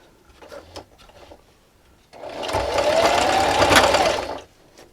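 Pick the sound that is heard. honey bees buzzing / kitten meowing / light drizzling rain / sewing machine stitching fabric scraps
sewing machine stitching fabric scraps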